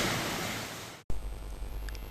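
Roaring broadband wind from Typhoon Xangsane in Vietnam buffeting the microphone, a brief dropout, then more gusty rushing noise with a low rumble.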